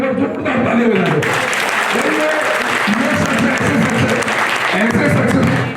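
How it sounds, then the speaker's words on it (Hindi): Crowd at a BJP political rally applauding loudly and continuously, dense clapping filling the space throughout, with some voices mixed in. "हर्ष मल्होत्रा जी के लिए एक बार जोरदार तालियां बजा दो।"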